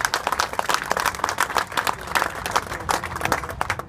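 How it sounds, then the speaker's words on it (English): A crowd gives steady applause at an outdoor motorcycle blessing event, dense continuous clapping from many hands that is loud and even throughout. "I just want to give a round of applause for Katie for coming up with this whole idea"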